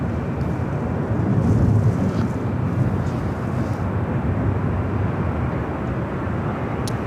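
Spirit Airlines Airbus A320 airliner at Los Angeles International Airport, a steady low engine roar with broadband rumble and wind, holding fairly constant throughout with no talk.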